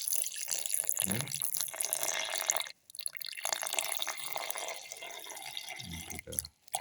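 Milk poured into a grinder jar for a rice flake and banana smoothie, a steady close liquid splash and trickle that briefly breaks off midway, then resumes.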